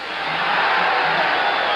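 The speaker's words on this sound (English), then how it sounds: "the crowd yells now with every Escalera blow" A boxing arena crowd roars in a sustained, dense wall of yelling and cheering during a late round of a title fight, loud and continuous with no distinct individual voices.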